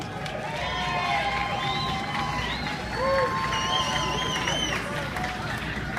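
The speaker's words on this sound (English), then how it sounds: "All right, let's cheer them all the way down." A crowd cheers and shouts encouragement for rappelling runners descending the Hyatt Regency building, with whistles and scattered voices over a steady outdoor hubbub and a loudspeaker voice talking.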